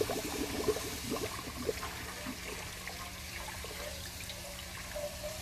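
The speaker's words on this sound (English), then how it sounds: "Run some cool water over it." Cool tap water runs steadily over drained pasta in a colander, a continuous hissing splash with some irregular trickles and drips, with no talking.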